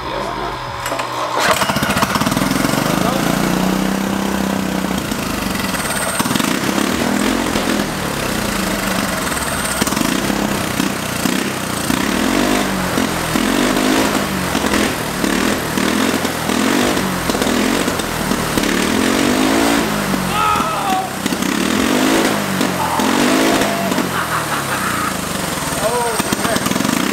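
A turbocharged go-kart engine is started and revved, giving a loud, continuous motor drone that rises and falls through repeated revs, with people talking nearby.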